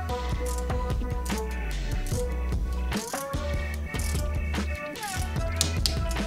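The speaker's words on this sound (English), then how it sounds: "take your torque wrench and tighten that up to 6 Nm" A torque wrench tightens the seat clamp on a Dolan TDT tandem track bike, giving close, rapid runs of ratcheting clicks with brief pauses between strokes.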